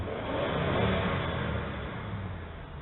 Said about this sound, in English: This is a great sounding engine.